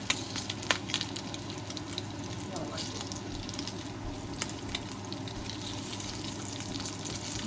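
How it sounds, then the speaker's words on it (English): Bacon and potatoes fry in a pan, the bacon browning fast, giving a faint, steady sizzle with occasional small clinks and scrapes close by. "I need a tray to put this bacon on because it's browning too fast"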